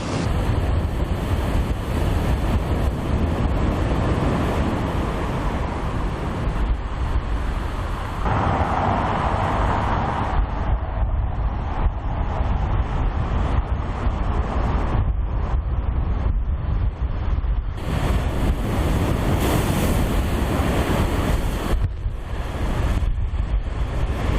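Giant storm waves crash on an Antalya beach in a continuous loud roar of surf, mixed with gusting wind buffeting the microphone and swelling breaks with no voices.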